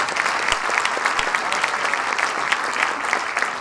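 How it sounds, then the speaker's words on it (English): Dense, lively clapping fills the room at the Havana Film Festival in New York closing ceremony, a brisk, even round of applause from a sizable audience with scattered sharper claps standing out near the front. "So let's give a round of applause to our government."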